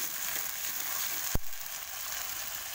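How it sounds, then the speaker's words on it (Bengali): Onion paste fries with garlic and green chili in a hot pan, a steady close hiss broken once by a brief thud. "পেঁয়াজ বাটাটা দিয়ে দিচ্ছি"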